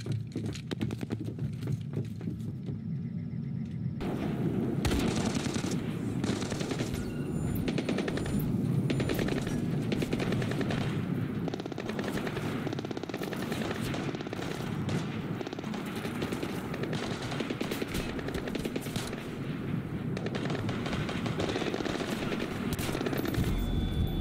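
Sustained heavy gunfire from the video game Splinter Cell during an airstrip firefight, with rapid machine-gun bursts and overlapping shots forming a loud, dense, continuous barrage after a short quieter opening.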